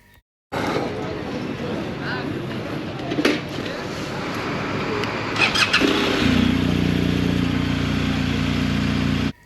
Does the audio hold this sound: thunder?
no